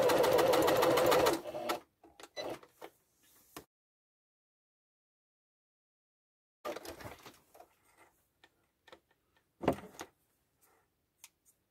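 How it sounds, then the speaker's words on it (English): Sewing machine stitching upholstery piping close to the cord: a steady, loud whirring run at the start, then short intermittent bursts and handling clicks separated by silence. "In so doing, it helps you to get it as the stitch as close as possible to the cord."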